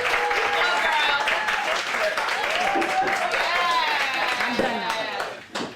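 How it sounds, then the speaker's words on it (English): An audience gives a round of applause, dense clapping and cheering filling the room under a loud voice talking over it, fading near the end. "give yourselves a fucking round of applause"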